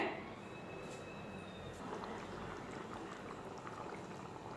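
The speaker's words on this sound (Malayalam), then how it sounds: "നമ്മുടെ കറി തിളച്ച് തുടങ്ങിയിട്ടുണ്ട്" A pot of Malabar fish curry with tamarind bubbles and simmers steadily at close range, a soft continuous crackle of boiling liquid with no voices.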